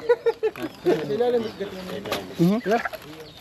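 Several short rooster clucks come in quick bursts, close and fairly loud, with a few throaty calls toward the end; a fighting cock.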